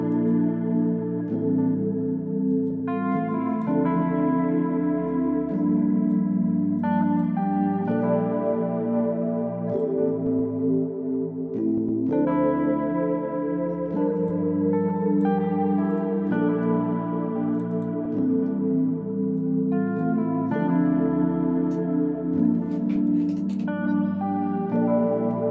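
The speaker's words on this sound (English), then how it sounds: "I used the guitar reveries from contact" A sampled guitar patch from Kontakt in FL Studio plays a looping deep house chord progression, sustained strummed-sounding chords shifting every few seconds at a steady moderate level, alone without voices.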